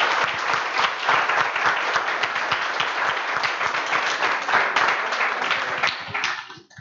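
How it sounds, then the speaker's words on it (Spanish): Sustained applause from a meetup audience closing a programming talk on threads and CompletableFutures, dense steady clapping for several seconds before tapering off at the end. "por favor, un aplauso"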